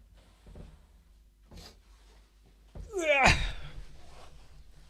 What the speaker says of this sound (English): It's alright, it's just my cat.